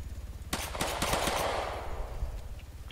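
Rapid bursts of video game gunfire from Arma 3 DayZ crack out in quick succession, a short automatic volley that trails off into a fading echo.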